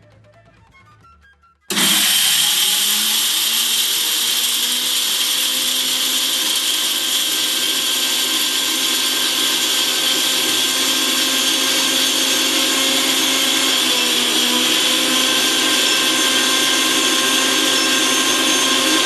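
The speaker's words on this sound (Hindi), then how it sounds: "अब हम यूपीएस के साथ सुजाता में 800 वॉट मिक्सी को चलाने का प्रयास करेंगे।" After a brief quiet moment, a Sujata 800-watt mixer grinder powered by a UPS kicks on and whines loudly and steadily at high speed, a constant motor roar that holds to the end.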